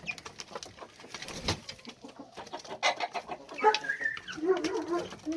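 A broody hen clucks softly among her chicks on a small farmstead, with scattered low clucks and coos mixed with thin high cheeps from the chicks, fairly close and uneven in rhythm.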